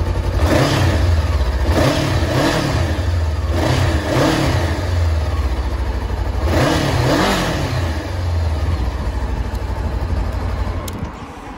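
A Honda CB500F ABS motorcycle fitted with heated grips runs its engine close by, with a steady mid-pitched idle broken by several sharp throttle blips and revs, and no voices.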